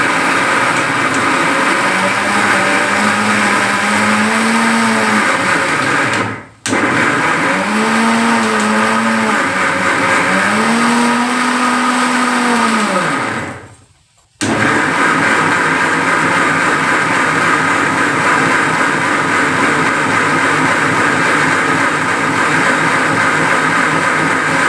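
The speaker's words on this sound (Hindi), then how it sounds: "ये लिया हमने मटर, और इसको हम पीस लेते हैं" A kitchen mixer grinder pulverises green peas into paste with a loud, high motor whine that rises and falls in pulses, stops abruptly twice for a moment, then runs on steadily.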